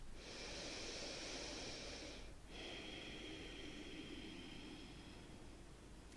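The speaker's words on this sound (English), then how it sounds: "One more breath." A long, slow breath during a yoga session, drawn in and then let out with a soft airy hiss, close and quiet with a brief pause in the middle and no talking.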